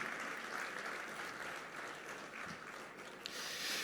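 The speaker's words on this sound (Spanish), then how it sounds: "Fuerte ese aplauso de alabanza al Señor." Sustained applause from a church congregation praising the Lord during a Spanish-language sermon, a dense steady wash of clapping that holds at an even level for the full stretch with no talk over it.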